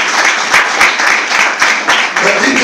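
A church congregation claps loudly and rhythmically in unison, steady strong beats repeating about every third of a second, with voices mixed in during a children's service.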